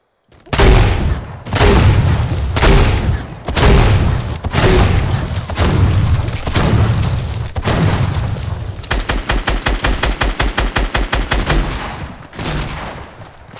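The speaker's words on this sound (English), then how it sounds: "Those guys being shot at from different directions." Fortnite: Battle Royale gunfire: loud, sustained bursts of booming shots in repeated volleys, shifting into a rapid machine-gun style rattle of many quick shots near the end.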